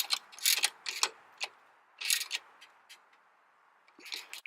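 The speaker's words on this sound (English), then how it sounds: "So now get this bolt tight." Ratchet tightening a bolt on a 2010 Subaru Impreza during a belt replacement, a close series of quick clicking bursts in uneven strokes with short pauses between.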